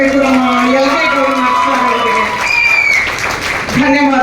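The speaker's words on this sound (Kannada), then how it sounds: "ಜೋರಾದ ಚಪ್ಪಾಳೆ ಬರಬೇಕು ನಮ್ಮ ಎಲ್ಲರಿಗೂ." Loud applause for teachers at a teacher-honouring ceremony at Hunnur government high school, a dense wash of clapping that runs continuously beneath a voice speaking over it.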